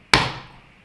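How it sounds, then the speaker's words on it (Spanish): A single sharp, close crack of a hammer striking a wood chisel driven into timber for a wedged through mortise and tenon joint, ringing briefly before fading out. "ahora ya golpeamos con el martillo paralelo a la mesa"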